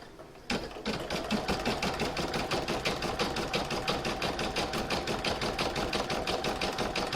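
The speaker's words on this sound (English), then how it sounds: "I will pop it back in my machine and stitch round number 5, which will do the satin stitch all around the edge" An embroidery machine stitches a satin stitch around the edge of an in-the-hoop glasses case, a fast steady mechanical chatter that starts abruptly and runs on close and loud.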